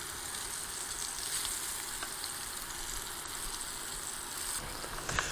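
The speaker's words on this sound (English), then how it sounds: "There, you can see after the flip, that's nice and golden brown." Fried green tomatoes sizzling in a pan of hot oil, a continuous crackling hiss with small pops, steady and close, with a brief clatter near the end.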